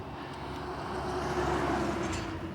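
Riding a Himiway Rambler mid-drive e-bike outdoors while pedaling, giving a steady, continuous rush of wind and rolling noise with a faint drivetrain hum throughout, no voices.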